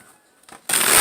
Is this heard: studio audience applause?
no